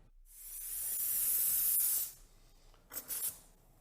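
A pressure cooker boiling legumes vents steam in a long, bright hiss that swells and holds for about two seconds, cuts off, then returns as two or three short, sharper puffs.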